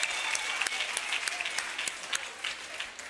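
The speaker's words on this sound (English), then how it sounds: "I would like us to applaud Deputy Minister" An audience at an imbizo community gathering applauds a Deputy Minister, giving a steady round of dense clapping that carries on for several seconds at moderate volume.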